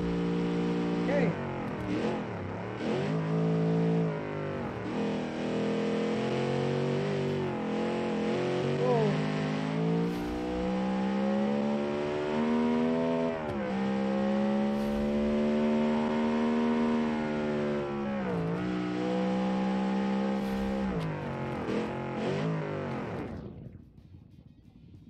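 A 500 kg race car with seven gears roars in a racing video game, its engine revving hard and loud throughout with rising and falling pitch sweeps at each gear change, then cutting off abruptly at the end.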